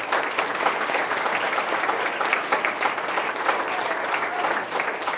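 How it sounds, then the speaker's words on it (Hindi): Loud, dense applause from a school audience honoring the principal, continuous clapping from many hands that holds steady throughout without any voice over it. "तो एक बार प्रिंसिपल मैम के लिए भी जोरदार तालियां"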